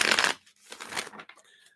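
Tarot reading cards shuffled by hand in two quick bursts, a loud riffle at the start followed by a softer, longer run of papery shuffling and flicks, close up.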